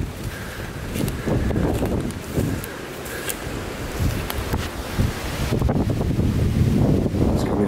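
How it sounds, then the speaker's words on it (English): Heavy wind buffets the microphone at an abandoned village in a continuous roaring rumble, rising and falling in gusts, with faint rustling underneath. "It's so windy. I'm not sure how the mic's gonna sound."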